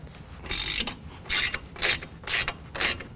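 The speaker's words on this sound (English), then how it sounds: "the next thing I'm going to do is remove the strut assembly from the lower control arms" A hand ratchet loosening the 18mm strut assembly bolts on a 2017 Ford F-150 4WD during a lift kit install, giving about five short bursts of rapid clicking, close and clear.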